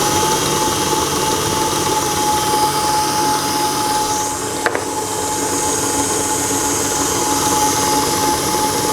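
Electric mixer whirring through condensed milk buttercream, a steady loud motor drone with a faint high whine and a brief clunk partway through.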